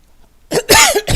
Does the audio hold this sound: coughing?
yes